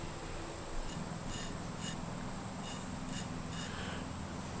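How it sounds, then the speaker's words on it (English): A sharpened knife blade shaves hair in a quiet woodland setting, giving about six short, faint scraping strokes at irregular intervals over steady outdoor background noise. "Let's see if she will cut some hair."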